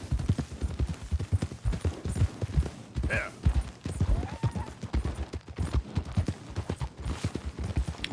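Horse hooves clip-clop in a steady rhythmic gait while riding in Red Dead Redemption 2, close and continuous, with a brief whinny-like squeal and faint background game sounds mixed in.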